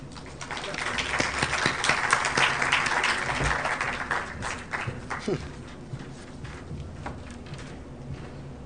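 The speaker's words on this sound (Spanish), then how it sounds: "Recibamos a todos nuestros panelistas con un fuerte aplauso." Audience at an international seminar on corruption applauds to welcome a discussion panel, steady broadband clapping building for several seconds then tapering, with voices chattering underneath.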